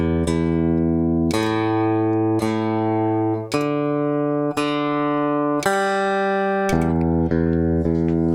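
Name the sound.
looped open guitar strings recorded on Echoplex Digital Pro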